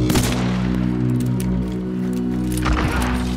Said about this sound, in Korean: 어우 샷건.